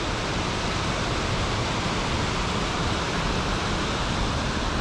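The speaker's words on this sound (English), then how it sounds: "and then boom, a massive waterfall too." A massive waterfall in a Scottish forest roars steadily and loudly, a dense unbroken rush of falling water that fills the whole scene with constant broadband noise and no other sounds.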